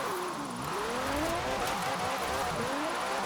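Car engine revving under a gently worked throttle, with the pitch rising and falling in repeated swells and no voices.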